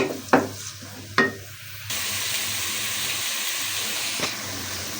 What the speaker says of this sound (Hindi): थोड़ा सा ब्राउन होने देंगे अपने प्याज को।